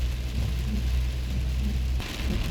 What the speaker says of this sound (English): Just started raining on us when we come back up to Charlotte's Pass from the Snowy River.